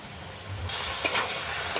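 Potato and green banana sauté in a pan, a soft continuous sizzle with a couple of faint spatula taps, close up and brief.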